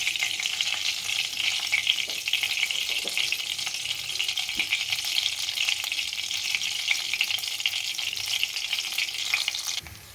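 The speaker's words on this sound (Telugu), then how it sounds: "ఇప్పుడు ఇందులో కూర ముక్కలు వేద్దాం." Stuffed brinjal pieces fry in a pan, giving a strong, continuous close-up hiss of sizzling oil with occasional soft stirring knocks and no voices, cutting off just before the end.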